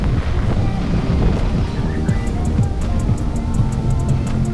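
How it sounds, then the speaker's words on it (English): Strong gusty wind buffets the microphone on a pier at the port of Miyako, Japan, a dense steady roar with rain and water noise underneath. "Windy and rainy."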